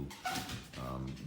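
A startled dog gives two short whimpering yelps close by with a slight pause between them, over faint room sound.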